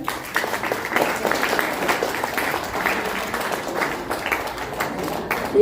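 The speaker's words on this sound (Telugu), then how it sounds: "అవునా అన్నవాళ్ళు గట్టిగా చప్పట్లు కొట్టండి" An audience at a state-level dance competition in Vijayawada claps loudly and steadily, a dense sustained applause filling the whole stretch with a faint murmur of voices underneath.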